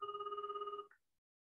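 A telephone rings in a Japanese listening exercise recording, a short steady electronic trill that cuts off after under a second, clear and alone.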